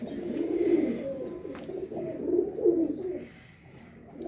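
Soft, repeated cooing of pigeons on a rooftop in Faisalabad, a low throaty warble that rises and falls continuously, fairly close, with no voices over it.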